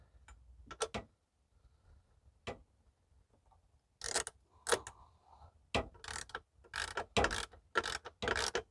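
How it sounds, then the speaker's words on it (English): A socket ratchet wrench turning a bolt on a Ford Flex, heard as a series of sharp metallic clicks in bursts, quiet at first, then quicker and louder clicking runs. "I'm going to use a socket and a wrench or a ratchet"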